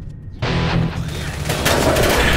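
Gunfire in the Left 4 Dead zombie shooter, a sustained loud burst of rapid shots that starts abruptly and continues densely to the end.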